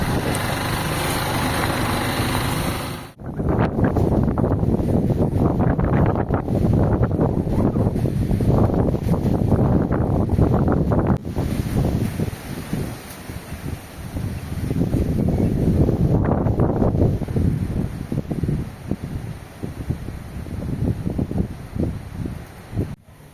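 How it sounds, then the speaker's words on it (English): Strong habagat monsoon winds buffet the microphone in loud, continuous gusts during a rain squall, rising and falling in roaring bursts after a brief quieter opening. "Super windy."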